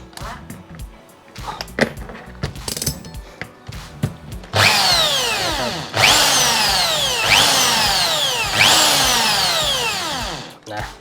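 A power drill driving a metal sheet nibbler cutter whines steadily in repeated long bursts, each with a rising-falling pitch sweep, after several seconds of clanking as the nibbler is fitted to the drill.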